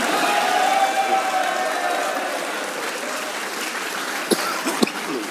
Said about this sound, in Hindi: एक बार इस परफॉर्मेंस पे शाहीन के लिए तालियां होनी चाहिए।